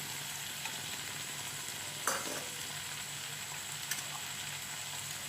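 Chicken frying in a pan for an egg chicken laccha, with an egg added, gives a steady faint sizzle and one brief scrape or splash midway, with no talk.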